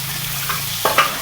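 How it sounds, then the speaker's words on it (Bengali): Bele fish fries lightly in a pan with a soft, steady sizzle, and two quick clicks of a spatula are heard close by. The sound is brief. "মাছটা হালকা একটু ভেজে নিব।"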